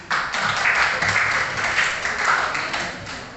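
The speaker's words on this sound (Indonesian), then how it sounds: "Tepuk tangan." Classroom students applauding together in a steady burst of clapping that fills the room, fairly loud and without talk over it.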